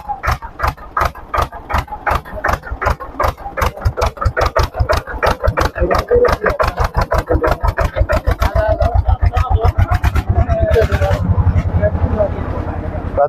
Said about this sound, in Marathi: ट्रॅक्टर चालले वरती.